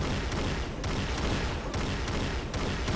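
Rapid shock rifle fire in Unreal Tournament during a 1v1 duel on the Liandri map, a continuous dense crackle of energy shots with periodic bursts, loud and close with no talk.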